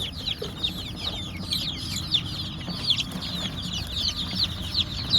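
Many young chicks peep and cheep continuously in high, overlapping chirps, fairly close, with a low background hum.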